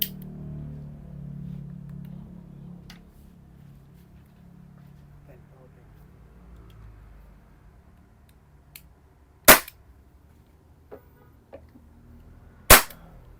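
An AW Custom airsoft pistol fires over a chronograph, giving two sharp, loud single shots several seconds apart, with a low rumble earlier and a few faint clicks in between.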